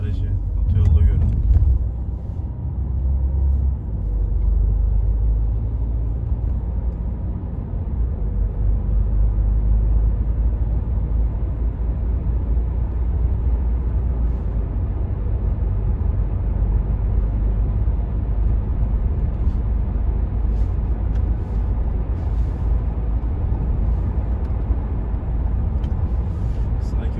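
Renault Megane 4 with 1.5 dCi engine and EDC automatic gearbox cruising on a highway in winter conditions at about 80 km/h, a steady low road and engine rumble with light wind noise throughout.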